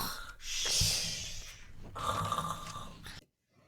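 A voice imitating a sleeping dinosaur snoring, giving two long rasping, snorting breaths with a brief gap between them before cutting to silence.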